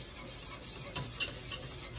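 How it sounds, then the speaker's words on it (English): A whisk working through a thickening mixture in a pot on the stove for an Italian rum cake, quiet continuous scraping and swishing with a few sharper clinks against the pot. "Got my whisk, and I'm gonna be whisking"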